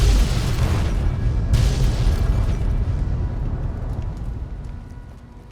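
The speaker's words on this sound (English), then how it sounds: "there is a warhead that's like tucked over here, which I can detonate from back here" A warhead detonates in a video game, a loud deep boom that starts at once and rumbles on, with a second burst of blast noise about a second and a half in before the sound slowly fades.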